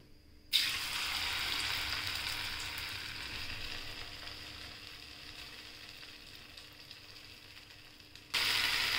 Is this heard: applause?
no